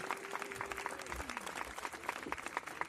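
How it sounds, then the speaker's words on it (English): Recorded clapping playing from a computer, a continuous patter of applause running at low level underneath a voice talking over it. "Y'all still hear the clapping?"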